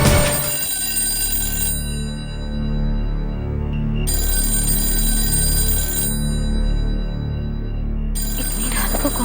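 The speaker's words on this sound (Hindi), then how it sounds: "इतनी रात को कौन फोन कर सकता है?" An old-style telephone bell rings late at night in a Hindi television drama, sounding in repeated bursts about two seconds long separated by short pauses, loud and close over a low background hum.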